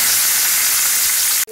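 Onion sizzling in hot oil with mustard seeds, cumin, coriander, curry leaves and dried red chillies, a loud steady frying hiss close up that cuts off abruptly at the end.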